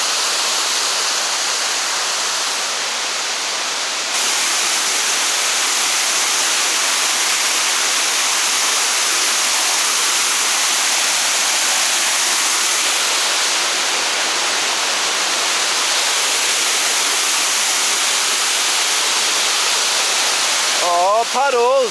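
Empress Falls waterfall at Wentworth Falls in the Blue Mountains, heard as a steady, close, broadband rushing roar of falling water that runs unbroken throughout with no voices.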